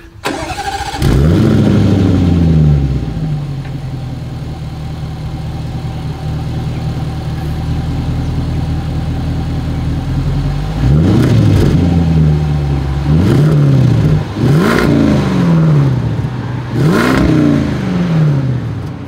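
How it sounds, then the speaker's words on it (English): A deep, throaty V8 engine of a 2023 Land Rover Defender 90 Carpathian Edition starts up and idles, then blips through several sharp revs in quick succession, loud and close with no talking. "As always, here is that exhaust clip."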